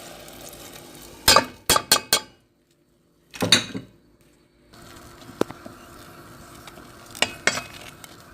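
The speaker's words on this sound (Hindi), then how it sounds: "अब हम सूजी डाल देंगे।" Semolina poured into a pan of egg halwa and stirred with a utensil, giving a few sharp scraping clacks, a dense rustling burst, then quieter sizzling with occasional clicks of metal on the pan.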